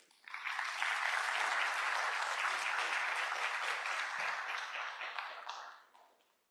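An audience at a university lecture hall breaks into steady, full applause welcoming Professor Subra Suresh, holding strong for several seconds before tapering off to quiet.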